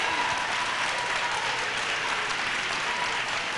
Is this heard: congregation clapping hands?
yes